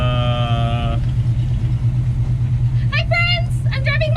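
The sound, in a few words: 1957 Chevy Bel Air car driving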